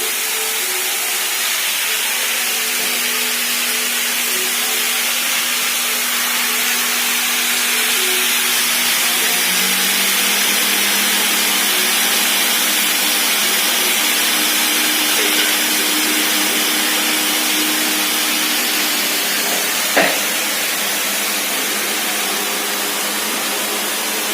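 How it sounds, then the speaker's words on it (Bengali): Poppy seeds are ground in an electric grinder, a loud steady whirring motor hum that shifts pitch partway through and runs continuously, ending with a sharp click, with no voices. "এদিকে আমি পোস্তটা বেটে নিচ্ছি।"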